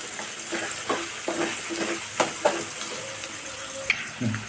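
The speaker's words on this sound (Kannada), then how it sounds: "ಈಗ ಇದನ್ನ ಫ್ರೈ ಮಾಡೋಣ ಸ್ವಲ್ಪ ಉಳ್ಳಾಗಡ್ಡಿನ ಚೂರು ಟ್ರಾನ್ಸ್ಪರೆಂಟ್ ಅಷ್ಟ ಆಗಲಿ" Chopped onion pieces fry in a pan for paneer masala, giving a steady close sizzle with intermittent scraping and stirring clinks, and no talking.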